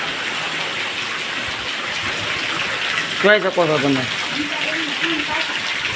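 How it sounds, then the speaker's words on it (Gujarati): Heavy rain pours down in a constant dense hiss, and midway a person briefly speaks over the downpour. "સારામાં સારો વરસાદ આવી રહ્યો છે અત્યારે"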